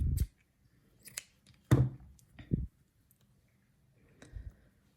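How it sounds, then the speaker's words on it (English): Scissors cutting crochet yarn in a few separate close snips with short quiet gaps between them. "I'm going to cut the yarn"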